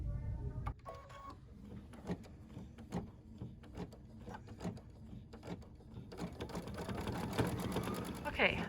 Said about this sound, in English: now we're doing the satin stitch